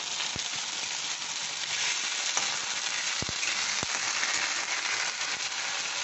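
Ginger paste and spices fry in a pan while a shrimp chorchori cooks, giving a dense, continuous sizzle at close range. A few faint taps sound from stirring.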